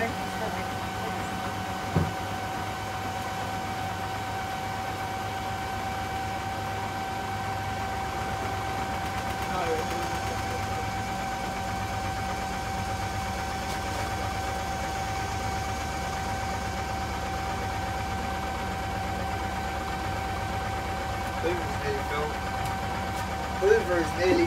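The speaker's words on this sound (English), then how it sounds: "Oh. No, it's spinning." A Hotpoint Liberator 1826 washing machine spins with a steady, droning hum and a constant whine, running evenly for the whole stretch with a few faint knocks and voices in the background.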